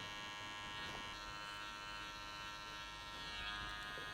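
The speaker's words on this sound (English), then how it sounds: "I'll take that 1/2 off and use your clipper 1/2." Electric hair clipper buzzing steadily while cutting a skin fade at a barbershop, a faint continuous whine heard close and unbroken throughout, with no talking.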